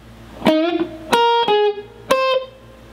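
Three distorted electric guitar phrases from a song, with bent, sustained notes, each struck sharply and ringing briefly before the next; no voices.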